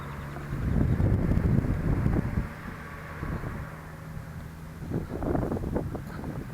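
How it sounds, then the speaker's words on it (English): Gusty wind buffets the microphone outdoors near a street while a model speedster plane is flown, coming in loud low rumbling bursts that ease off midway and then swell again, with no one talking. "it's a little windy for me"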